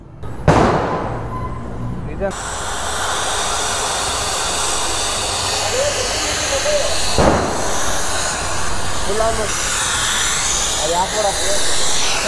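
Compressed air hisses through a brake part of a Honda CBR Fireblade SP motorcycle in a steady, loud, close blast that runs throughout, with a sharp burst at the start, a brief surge midway, and someone talking over it.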